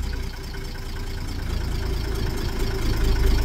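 A car engine keeps idling steadily after the ignition is switched off, a low continuous rumble with a faint knocking edge that swells slightly toward the end, with no voices.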